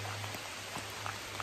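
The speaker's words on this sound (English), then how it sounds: "Rain or no rain, it's a cool day. I don't mind the rain." Steady rain falling in the woods on a cool day in Marion County, West Virginia, a continuous close patter of drops on leaves and surfaces with a few louder individual hits.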